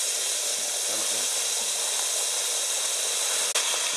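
Cuttlefish pieces sear in a hot pan for a Hong Kong–style braised dish, giving a steady, loud broadband sizzle and hiss that runs unbroken throughout, with a brief sharp clack near the end.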